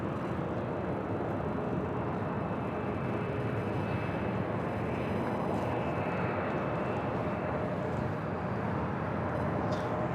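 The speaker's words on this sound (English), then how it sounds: "United Airlines Flight 251 coming in from Baltimore, 737-800 now crossing over 25 right." A United Airlines Boeing 737-800 arriving from Baltimore crosses over runway 25 right at LAX with a constant, moderately loud engine roar and no break in the noise.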